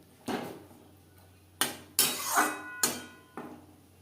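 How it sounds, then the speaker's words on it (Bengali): A spoon clanks sharply several times against a pan as fried pointed gourd is stirred into cooked-down spices, leaving quiet gaps between the knocks. "মশলার সাথে পটল বেশ ভালো করে মিক্সড করে দেব।"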